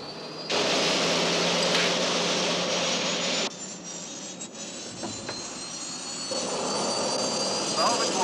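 Roaring spacecraft engines at liftoff in a television drama, a loud broadband rumble that swells abruptly, holds steady, dips slightly and surges again, with no clear speech over it.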